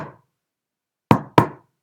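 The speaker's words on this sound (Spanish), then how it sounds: "ya que emitía con su bastón ese típico ruido" A chamberlain's staff strikes the floor in a court ceremony: a faint trailing knock at the start, then two loud, sharp wooden thuds in quick succession, alone in silence.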